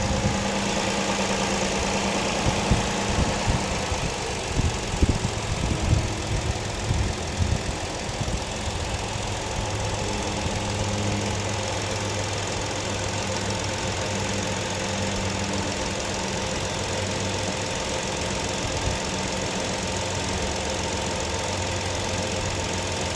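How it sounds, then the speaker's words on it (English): A 2015 Ford Explorer police SUV engine idles steadily and close up after a cold start, with a low rumble and a slight rough knock early on, then settles into an even drone without talk. "I am going to be quiet so you are able to hear the actual engine idle."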